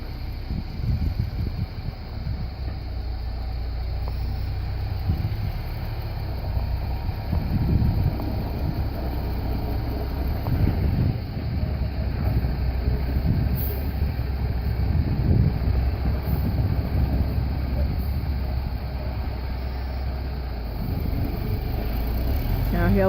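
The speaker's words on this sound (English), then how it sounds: "the crane concrete pumper is backing out now" A concrete pump truck with a crane boom backs out of a tight residential building site after a basement and stem wall pour, a steady low diesel rumble running throughout with wind noise and faint voices underneath.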